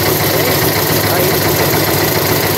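A Volkswagen Gol BX car engine runs steadily at a constant loud hum, with a dense, unchanging rumble and no other sounds standing out.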